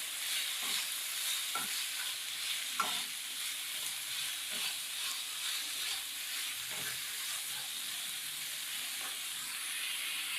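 Bell peppers sautéing in a hot pan, a steady sizzle and hiss with occasional stirring scrapes and soft clicks spaced across the clip, no voices.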